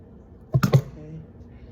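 Scissors snip through tassel thread for loop earrings, giving two or three quick, close, soft clicks in one short burst against a quiet room.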